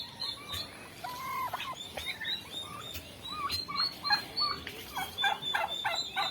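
Turkeys gobble repeatedly in a farmyard, a string of loud, rattling calls close by, mixed with other fowl chirps and clucks over steady outdoor background noise.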